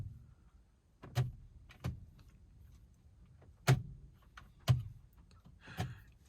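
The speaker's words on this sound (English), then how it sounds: "just listen to this click of the indicator stalk" Crisp mechanical clicks from the indicator stalk of an Audi A TFSI, heard up close in a quiet cabin as four or five distinct snaps spaced irregularly a second or so apart.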